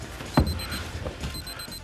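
A pager beeps with repeated short, high-pitched electronic tones in a room, over a thud and faint background noise.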